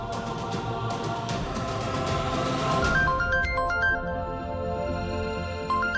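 A phone ringtone plays a bright melodic tune over a busy musical background, steady and moderately loud, with no talking.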